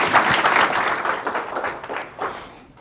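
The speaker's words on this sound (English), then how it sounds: "So we'll give you a great applause" Audience applause at a city council meeting, a burst of clapping that starts full and gradually thins out and fades toward the end.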